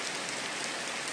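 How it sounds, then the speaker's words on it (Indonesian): Rain falls steadily as a shower begins in the late afternoon in Demak, a soft, even hiss of drops on surfaces with no other sounds. "hujan mulai turun"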